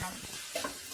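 Sliced tomatoes hitting a hot pan for Chettinad chicken masala, sizzling as they fry, with a short scrape of stirring and a couple of soft clinks of utensil against the pan.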